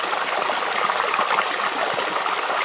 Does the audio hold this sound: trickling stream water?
yes